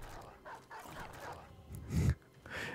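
Dogs bark in a multiplayer video game, with a louder burst of barking near the middle over busy game sounds and faint background talk.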